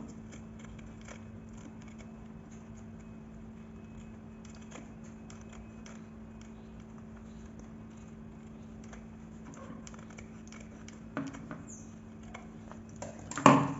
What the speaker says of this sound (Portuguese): E vou cortar as sobras aqui do meu bolsinho.